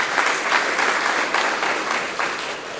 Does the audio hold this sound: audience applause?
yes